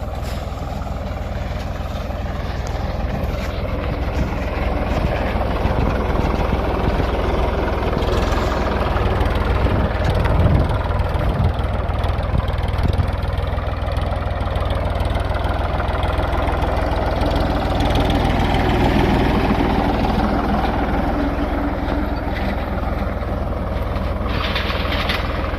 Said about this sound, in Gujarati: આપણું ટ્રેક્ટર ઓટો મોડમાં રાખી દીધું છે અત્યારે